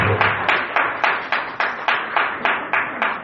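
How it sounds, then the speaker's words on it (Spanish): A church congregation claps in a steady, rhythmic beat, the sharp hand claps close and loud with no talk over them. "Dale un fuerte aplauso a Dios."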